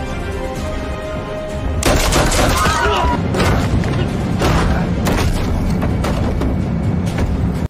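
Gunfire in a film scene where hijackers shoot two police escorts: a loud cluster of booming shots and rapid bursts over a dense, rumbling action soundtrack.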